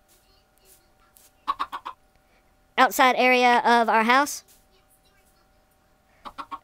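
Chickens cluck in the Minecraft video game: a loud burst of rapid clucks in the middle, with short quieter sounds around it and a person talking.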